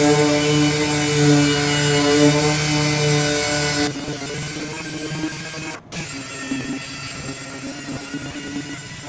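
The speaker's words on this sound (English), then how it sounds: "we are sanded with 400 grit" Sanding the body of an SN95 Ford Mustang with 400 grit sandpaper, a steady machine-like abrasive rasp with a strong hum that drops quieter partway, then continues with a brief gap, close and alone.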